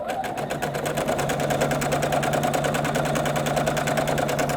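A sewing machine with a 1/4 inch foot stitches quilt pieces for a crib or toddler quilt, running in a steady, continuous rapid rhythm close up for the whole stretch with no pauses.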